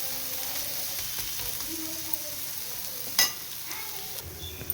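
Bread roasting in a pan for an evening bread-toast snack gives a quiet, steady sizzle, with one sharp clink of a utensil partway through and a few light scrapes.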